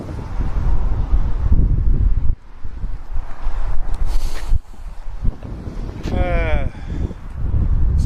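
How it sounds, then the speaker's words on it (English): Outdoor gusts buffet a microphone fitted with a furry windshield, loud rumbling bursts that drop out briefly and return, with faint voices mixed in. "It's a little bit windy."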